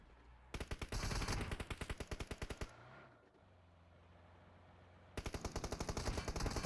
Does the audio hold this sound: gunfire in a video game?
yes